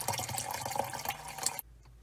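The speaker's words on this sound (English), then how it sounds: "we're just going to do what's called canting off the water, which is where we just pour off this top portion" Water is poured off a settled aluminum oxide mixture, giving a close, splashy trickle for about a second and a half that stops abruptly.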